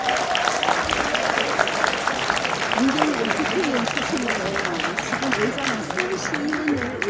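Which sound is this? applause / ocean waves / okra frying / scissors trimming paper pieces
applause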